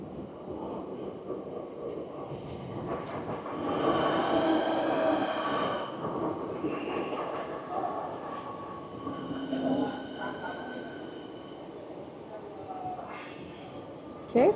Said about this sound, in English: Okay, so that's the train coming.